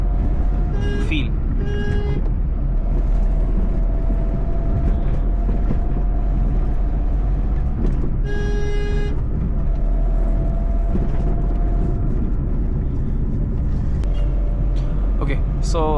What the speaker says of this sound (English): So let's drive this car into the city and see performance